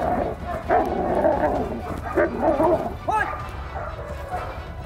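A fierce dog barks and yelps in bursts during an attack-skill demonstration, close and loud over scuffling and outdoor noise.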